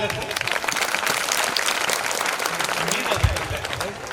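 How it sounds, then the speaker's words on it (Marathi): Loud applause from a school audience after a drama performance at an annual function, a thick crowd of clapping hands sustained throughout with a brief voice or thump near the end. "जोरदार टाळ्या झालं"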